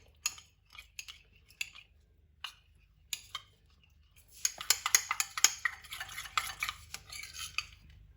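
A spoon mixing a powdered cucumber cream in a small bowl, a few isolated taps at first, then a quick run of dense scraping and clinking strokes, fairly close and quiet.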